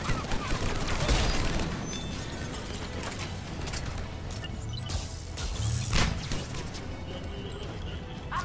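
Shotgun gunfire in the Mass Effect 3 Legendary Edition video game, bursts of booming shots and mechanical clatter over a dense, loud soundscape, with someone talking in Italian over it.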